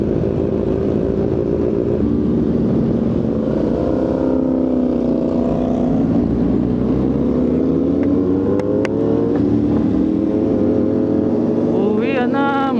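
Kawasaki Z900RS big bike cruising on the NLEX expressway in the Philippines, its steady engine drone and wind rush continuous and loud throughout, with gear-like pitch sweeps rising and falling near the end.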